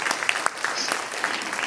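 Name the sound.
audience applause for a designer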